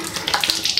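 Tap water runs steadily into a sink for face washing, a close, continuous splashing hiss with small bright spatters.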